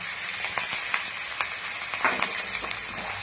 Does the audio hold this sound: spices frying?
yes